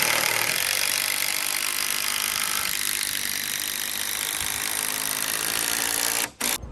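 A loud, steady power-tool whine drives a long timber screw into cedar wood for several seconds without pause, then cuts out abruptly near the end.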